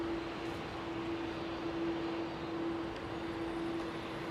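A Singapore Airlines Airbus A380 on approach to Heathrow, a steady broadband engine roar with a sustained tonal hum, loud and continuous throughout with no speech.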